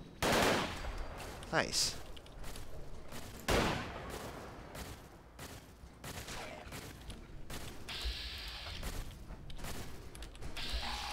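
Bursts of gunfire come from a combat scene in Fallout 4. Rapid volleys and single loud shots repeat throughout, with mechanical clicks between them, and a player's voice speaks briefly over the action.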